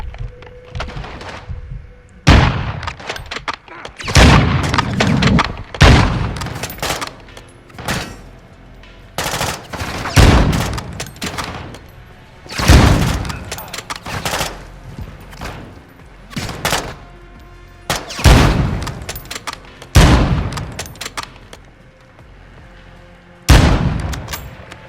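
Video game gunfire from Modern Warfare 2 on a solo campaign mission: rapid automatic bursts and heavy grenade-like blasts erupt repeatedly at close range over a constant battle rumble, with no talk heard.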